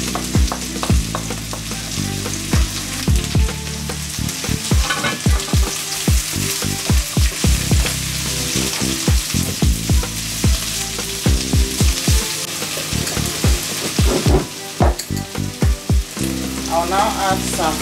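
Spring onions fry loudly in a hot pan during Christmas dinner cooking, a dense, continuous sizzle with frequent sharp scraping and knocking of a utensil stirring against the pan, close up and with no talk.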